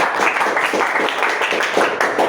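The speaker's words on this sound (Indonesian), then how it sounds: "tepuk tangan dulu untuk lawan perwakilan kelompok 3" Classroom applause for the group 3 representative, a steady patter of many hands clapping together from a room of students, fairly close and continuous, with no talk over it.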